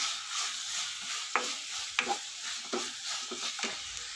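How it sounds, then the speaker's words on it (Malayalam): Ground pepper, turmeric and chilli powder being stirred into a spice masala for pearl spot fish baked in banana leaf, with a few soft scraping knocks of a spoon in a bowl over a steady hiss. "പിന്നെ നമ്മൾ മാറ്റി വെച്ച കുരുമുളക് പൊടി, മഞ്ഞൾപ്പൊടി, മുളക് പൊടി എല്ലാം കൂടി നമുക്ക് ഇതിലേക്ക് മിക്സ് ചെയ്യാം."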